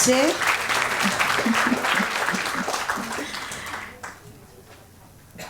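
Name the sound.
audience applause at a conference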